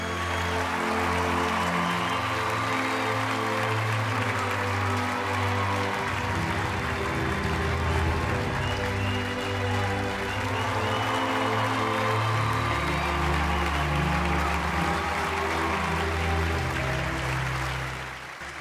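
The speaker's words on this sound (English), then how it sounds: "Give a special round of applause to the next recipient of the Lifetime Achievement Award, Raymil Blinker!" Sustained applause from an awards-show audience for a Lifetime Achievement Award recipient, spread evenly through the whole stretch beneath loud band music, with the clapping mostly buried in the mix.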